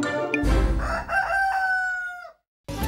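Cartoon rooster crowing loudly and close up, a single drawn-out cock-a-doodle-doo that ends in a brief silence before another sound starts.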